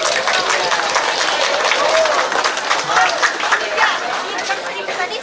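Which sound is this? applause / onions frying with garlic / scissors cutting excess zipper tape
applause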